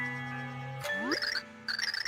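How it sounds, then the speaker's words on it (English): Chiming bells ring out in the Super Paper Mario finale, a high metallic jingle with sustained tones and a rising sweep, then bright repeated tinkling bell strikes that come in two bursts. "How lovely, the bells are giving their blessing to Tippy and Bleck."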